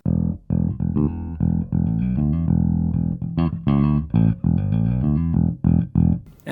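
Bass guitar played through a Mesa Boogie 8x10 cabinet simulation on a recording pedalboard: a continuous run of warm, full, low notes, close and steady, with no talking.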